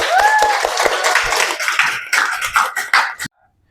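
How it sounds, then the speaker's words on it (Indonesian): A classroom group of students claps together in a quick burst of applause, loud and close, cutting off abruptly near the end. "Ayo sama-sama kita tepuk tangan."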